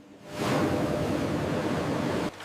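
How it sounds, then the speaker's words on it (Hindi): Pomegranates tumble from emptied crates into a large water tank at a juice processing factory, a loud, steady rushing splash that swells in quickly, holds for about two seconds, then cuts off abruptly. "एक मशीन क्रेटों को खाली करती है और फल पानी के एक बड़े टैंक में गिरते हैं।"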